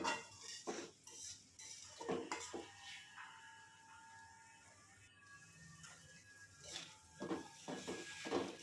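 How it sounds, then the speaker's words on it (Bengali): A utensil scrapes and clinks against a pan as a chorchori of puti fish, taro and Malabar spinach is stirred, in a few short bursts with quieter gaps between. "ভালো করে নেড়ে চেড়ে নেব"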